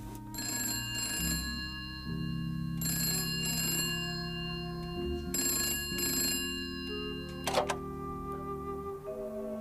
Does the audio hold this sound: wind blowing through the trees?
no